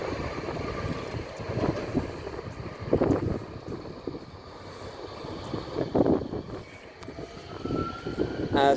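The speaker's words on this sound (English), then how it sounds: "As the other tram also exits." A Nottingham tram pulls away from the stop, its motor and wheel noise rising and falling over steady background rumble, with a couple of louder swells and a faint rising whine near the end.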